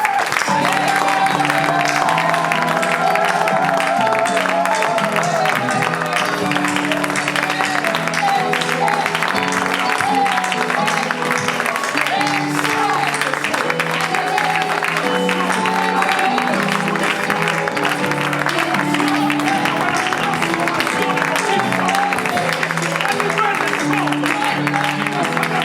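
A church congregation applauds and acclaims the Lord together, loud and sustained: dense clapping mixed with shouting voices that keeps going without a break.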